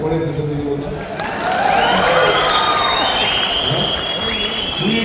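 Crowd applause at a political rally speech, a dense wash of clapping with some cheering and shouts that swells after the first second and stays loud and steady throughout.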